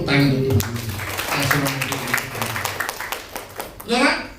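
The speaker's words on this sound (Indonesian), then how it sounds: "Tepuk tangan untuk Tuhan." A church congregation at a Sunday morning service claps together in steady bursts, a crowd of hands under and between a voice talking, with music-like tones in the background.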